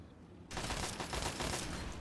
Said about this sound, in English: some of them are shooting it